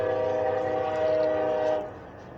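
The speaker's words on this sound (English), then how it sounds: "Y'all hear that train, I'm sure." A train rolls past close to a house on First Street in Chapel, Nebraska, a loud steady rumble with a sustained horn-like tone that cuts off and fades near the end.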